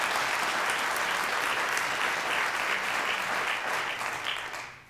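Dense, sustained audience applause at a school budget talk by a state assemblyman, a thick, even roar of many hands clapping that holds steady and then tapers off at the end.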